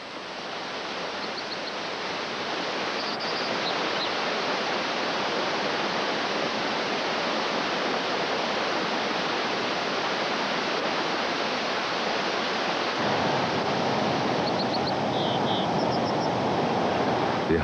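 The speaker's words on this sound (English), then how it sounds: "Snowmelt swells the streams that tumble from mountain to the sea." Mountain streams swollen with snowmelt rush and tumble downhill in a steady, broad roar of water that holds constant and loud throughout, with faint bird chirps now and then and no voices.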